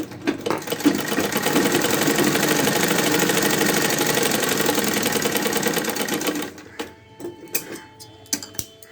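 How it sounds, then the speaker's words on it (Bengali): A sewing machine stitches a blouse in one steady, loud run lasting several seconds, then stops, leaving a few faint clicks and handling sounds. "দেখো আর একবার সেলাই করি দুটো সেলাই একবারে দিয়ে দিই"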